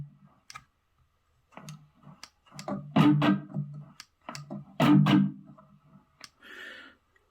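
Intermittent crackling and scratchy bursts from a noisy electric guitar volume pot, irregular and growing louder midway, with sharp clicks and gaps of silence between.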